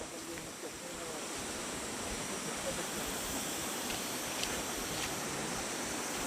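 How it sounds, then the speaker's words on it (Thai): A waterfall rushing in a forest along a nature trail, heard as a faint, steady broadband roar of falling water that fills the background without pause, distant rather than close. "ได้ยินเสียงน้ำแล้วนะครับ"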